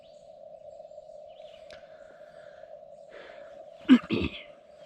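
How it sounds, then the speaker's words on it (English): CW Morse side tone from a Lab599 Discovery TX-500 radio, a steady single-pitch tone held for several seconds, with faint rustling and a brief breathy voice sound near the end. "Turn that side tone up a little bit so you guys can hear"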